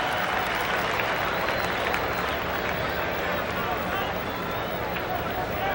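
A baseball stadium crowd at the 1985 World Series, Game 2, fills the air with a continuous, even roar of murmuring and clapping, heard from a distance.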